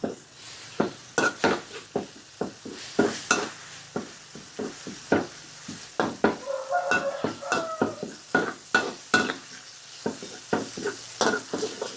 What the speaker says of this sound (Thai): พริกแกงลงไปผัดเลยค่ะ